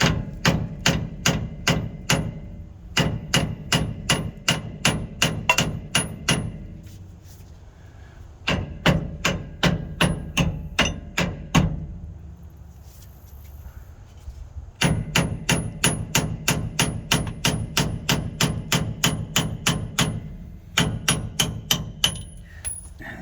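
A hammer taps a pinion part off a 1998 GMC K1500 axle in quick bursts of sharp metallic strikes, about a dozen per burst, separated by short pauses, close and clear.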